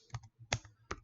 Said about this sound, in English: I'm just typing here because I'm going to share with you this